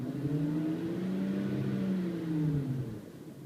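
A BMW 5-Series E39 (528i/540i) engine revs up as the gas pedal is pressed, a rising and falling mechanical drone heard close and alone with no talk.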